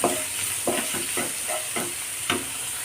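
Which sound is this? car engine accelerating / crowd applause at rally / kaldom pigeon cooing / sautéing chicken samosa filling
sautéing chicken samosa filling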